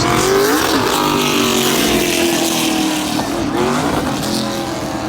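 Race cars roaring around Stafford Motor Speedway during an SRX race, loud continuous engine drone with rising and falling pitch as cars pass close by.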